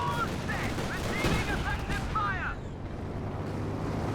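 Bursts of small-arms and machine-gun fire crackle through a Company of Heroes 2 battle between Soviet infantry squads, dense and overlapping, with a sweeping whine of projectiles over the din.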